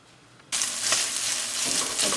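Sausage for Thanksgiving stuffing frying in a pan, a steady close hiss that starts abruptly and holds loud and even for about two seconds with no talk.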